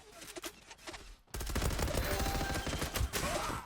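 A few scattered shots are followed by a sustained burst of machine-gun fire in a video game, rapid and continuous, loud and close, with no voices.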